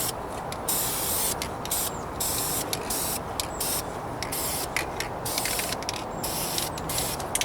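Repeated bursts of aerosol spray paint hissing outdoors on a 1998 Toyota Corolla's trunk and rear bumper, close and loud, with short pauses between each press of the nozzle.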